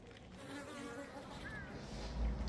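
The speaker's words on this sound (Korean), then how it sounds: "3월 벌이 한 통 들어왔습니다" Korean native honeybees swarm around a newly occupied hive in March, giving a dense, continuous buzzing drone at moderate distance, with individual bees flying past and a low rumble toward the end.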